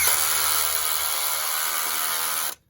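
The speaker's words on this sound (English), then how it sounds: "I usually just run it in with the drill" A power drill runs a nut onto the axle of a 125cc motorcycle, a steady high-pitched whirring buzz held close and loud for over two seconds before cutting off abruptly.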